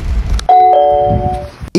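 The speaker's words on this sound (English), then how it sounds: "no one was responding to their doorbell" A doorbell rings a two-tone ding-dong chime twice, the clear bright tones sustaining and overlapping, loud and close, with a sharp knock or click at the very end.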